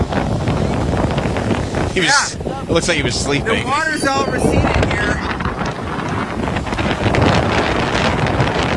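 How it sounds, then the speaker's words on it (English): Strong wind buffets the microphone in a steady roar, with people talking over it. "Man, it's windy. It's very windy."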